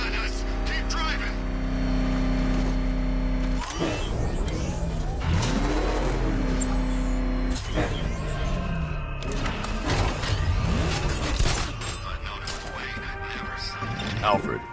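A car chase in Batman: Arkham Knight, with a roaring engine, crashes, scraping metal impacts and a vehicle whooshing past, loud and continuous while voices shout over the action.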